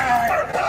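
A dog gives a short, high yipping bark, loud and close, lasting under a second.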